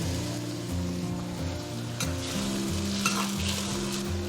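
Steady sizzling and bubbling fill a wok as water and seasonings go in with velvet antler mushrooms, with faint tonal background sounds and no voices.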